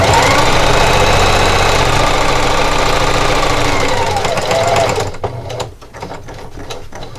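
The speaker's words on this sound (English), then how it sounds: "and just keep sewing." A sewing machine stitches a grippy fabric jar opener in a steady, loud mechanical whir that runs continuously, then stops abruptly and gives way to a few quieter clicks and handling noises.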